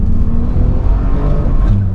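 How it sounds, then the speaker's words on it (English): A new Bentley's engine drones steadily on the overrun, with a subtle, mild exhaust burble and pop mixed into the continuous, loud rumble. "there is a subtle, wow, pop and bang on the overrun. It's only a mild barble, but it's there."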